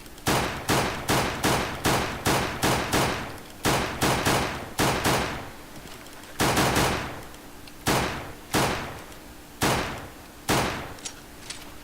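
Repeated gunshots in a surf video game, about a dozen sharp cracks in quick uneven bursts with short pauses between, loud and close with a metallic edge, no talking.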